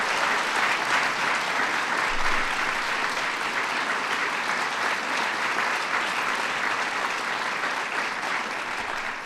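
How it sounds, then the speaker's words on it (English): Dense, sustained applause from a large audience at a White House arts honors ceremony, steady and loud throughout with no speech on top. "So give him a big round of applause in his absence."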